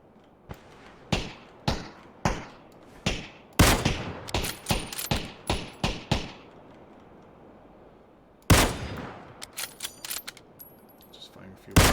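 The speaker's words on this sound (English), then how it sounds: "Just firing a few shots." Gunfire in PUBG, a battle royale shooter, on the snowy Vikendi map: sharp single shots spaced about a second apart, then a quick cluster of rapid shots, a pause, and another burst of shots. Loud and close, with sharp decays.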